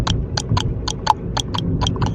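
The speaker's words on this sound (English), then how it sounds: "Oh, there's a horse in the car." A horse sound effect made in a car: a steady run of about ten evenly spaced clip-clop hooflike knocks, close and fairly loud over a low rumble, with no talk.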